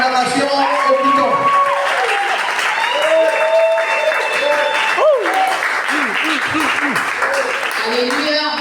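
An audience at a church service claps steadily. The applause blends with tonal voices or singing that rise and fall throughout.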